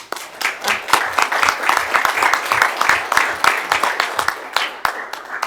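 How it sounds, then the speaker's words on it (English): Audience members at a commission meeting clap in a modest round of applause. The claps are distinct and rhythmic, from a small group in a room, and stay fairly loud and close for the whole span. "that deserves a round of applause"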